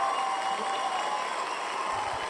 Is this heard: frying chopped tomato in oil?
no